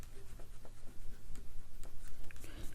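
Pen writing a label onto a paper folder, a soft scratchy patter of short strokes up close, fairly faint, with no talking.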